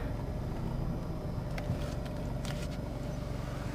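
Ford Fusion on a night test drive, heard from inside as a steady low road and engine hum with faint ticks over it.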